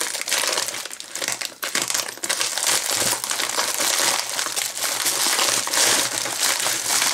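Plastic packaging from a Temu parcel crinkles and crumples steadily and up close for several seconds while the parcel is opened.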